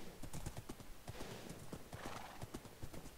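Horse hooves clip-clop steadily in the Minecraft video game while riding, a quick regular patter of close hoof knocks over a constant ambient bed, faint overall.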